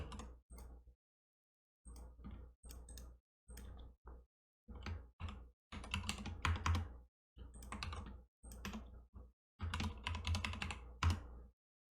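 Keys pressed on a computer keyboard, including a Ctrl+C shortcut, come as close, crisp bursts of clicks separated by brief silent gaps, with no talking.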